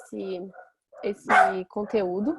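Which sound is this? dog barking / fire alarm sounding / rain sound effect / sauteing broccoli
dog barking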